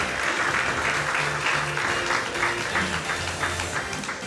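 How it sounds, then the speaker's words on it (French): Steady audience applause at an awards ceremony honouring young leaders, dense and continuous throughout with a few faint voices underneath and some low background tones. "Je crois qu'on peut l'applaudir."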